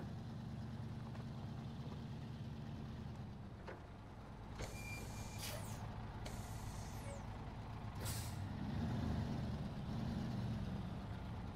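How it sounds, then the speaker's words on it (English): A truck in the SnowRunner driving game gives several short air brake hisses over a steady low engine idle, moderately close and otherwise without talking. "I love the air brake feel"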